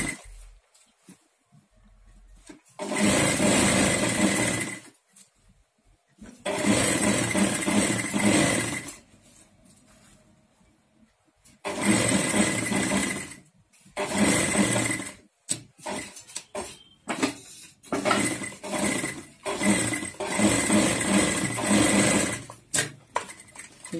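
A sewing machine runs in several fast stitching bursts while sewing piping onto a blouse, each burst a steady mechanical whir broken by short pauses, close and clear with no talk.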